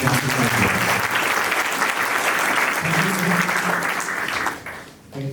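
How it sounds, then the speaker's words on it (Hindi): Audience at a direct selling event applauding loudly and continuously, a thick sustained roar of clapping that fades slightly near the end. "तो जोरदार तालियों के बीच में"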